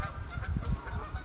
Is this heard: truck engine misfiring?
no